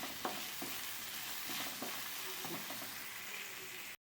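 Onion added to a pan and frying with fish. A soft, constant sizzle is broken by a few light stirring clicks, then it cuts off abruptly.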